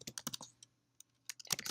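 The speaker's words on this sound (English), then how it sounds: "being really careful about your typing there" Someone types quietly on a computer keyboard. Quick clusters of soft clicks are followed by a brief pause, then another rapid burst of keystrokes.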